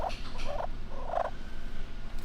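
A wild turkey call is worked by hand to imitate a turkey's gobbling gurgle, giving several short rolling bursts close up over a steady low background hiss.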